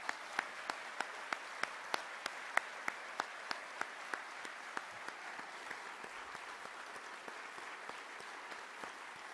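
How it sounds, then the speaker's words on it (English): Sustained applause from an audience at a defense employer support awards ceremony honoring recipient employers, a soft, even patter of many hands with scattered sharper individual claps standing out near the front, holding steady throughout. "So another round of applause to all the employers who are recipients"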